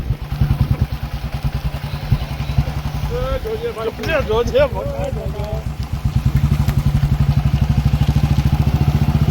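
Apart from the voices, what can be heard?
motorcycle riding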